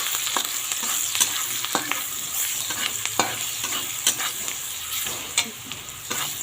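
Sliced onion fries with salt and turmeric powder in a pan for a chorchori, giving a constant loud sizzle broken by frequent scraping spatula strokes, close and continuous, with no talking.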